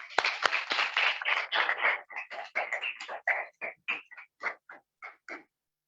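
Audience applause at a Hindi poetry gathering welcoming the poet Ashok Chakradhar, starting as a dense burst of many hands and thinning into scattered, fading claps before dying out.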